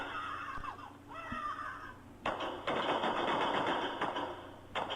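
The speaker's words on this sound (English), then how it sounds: "You hear the gunshots running." Gunfire in a shooter video game, with loud, dense bursts of rapid shots that start about halfway through and continue to the end over a steady game background.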